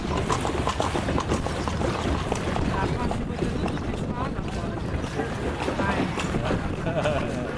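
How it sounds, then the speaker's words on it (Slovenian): A boat on the Nile in Egypt produces a constant rushing roar of wind and engine noise throughout, with voices talking faintly underneath. "Ja, Brigito, tukaj je naša ladja."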